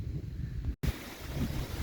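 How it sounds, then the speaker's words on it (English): Wind blowing across a mountaintop on the Appalachian Trail, a steady low rushing buffet on the microphone, close and continuous apart from a brief cut of silence midway. "Boy, you can hear the wind."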